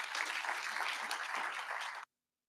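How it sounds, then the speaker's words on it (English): Audience clapping at a bursary awards ceremony, a steady round of applause lasting about two seconds before cutting off abruptly into silence. "Let's give them a round of applause."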